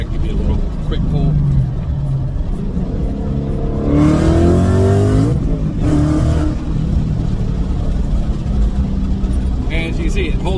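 A car with a manual clutch pulls hard from low speed, engine note climbing sharply through a loud surge, easing off briefly, then building again before settling into steady driving rumble.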